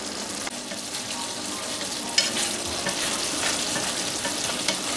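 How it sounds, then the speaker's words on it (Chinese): Eggplant and shrimp cooking in a pan over medium heat, giving a steady close sizzle and bubbling hiss throughout with a faint utensil tap near the middle. "茄子加进来， 保持中火烧一会儿"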